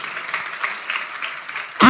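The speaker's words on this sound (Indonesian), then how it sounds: "Oke, boleh tepuk tangan?" A short burst of applause from a small crowd, steady clapping throughout, ending with a louder thump or noise at the very end.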